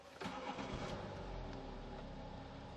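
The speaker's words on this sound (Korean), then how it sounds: "일단 시동부터 한번 걸어볼게요." A BMW Gran Turismo with an inline-six diesel starts up: a brief crank, then a steady, smooth mid-pitched engine running close by, with no talk.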